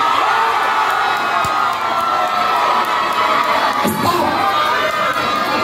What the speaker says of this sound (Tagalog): sumisigaw na yung mga kapitbahay mo